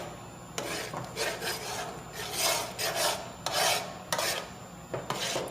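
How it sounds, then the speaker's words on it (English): Metal spoon scraping the bottom of a pan while stirring a keto mixture that is slow to thicken, repeated rasping strokes in an uneven rhythm, close and fairly clear with no talking. "I normally don't like scraping my pan with this kind of spoon"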